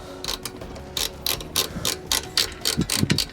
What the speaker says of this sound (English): with the aid of the ratchet tool, it makes it nice and easy